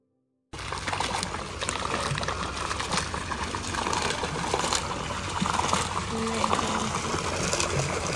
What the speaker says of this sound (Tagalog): Ayan, umulan na siya.